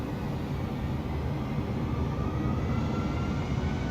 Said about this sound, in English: As he throws in the spoilers and the reversers.